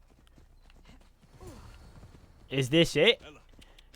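Horse hooves clip-clop from a horse in Assassin's Creed Odyssey on PC, a short burst of a few loud, close hoof strikes near the end of the clip, with a voice briefly talking beforehand.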